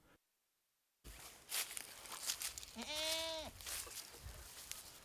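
Gala goats on a farm: after a brief silence, a single clear, wavering bleat rings out close by amid rustling and shuffling footsteps, with faint farmyard noise around it.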